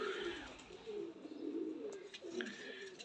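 Teddy pigeons cooing, with soft, low, rolling coos repeating close by over a faint background, along with a few higher chirps.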